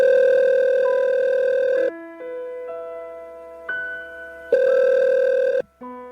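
Steady telephone calling tones from a cellphone buzz in long, even bursts separated by short gaps, loud and close, alone without talk.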